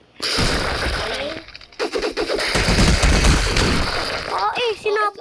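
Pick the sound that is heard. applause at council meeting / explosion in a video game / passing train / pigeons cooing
explosion in a video game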